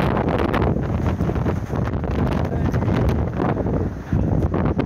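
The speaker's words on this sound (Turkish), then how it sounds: "Çok hızlı rüzgar." Strong gusting wind fanning a Black Sea forest fire in Çaykara, Turkey, roars and buffets continuously, loud and close, with rushing noise surging and dipping throughout.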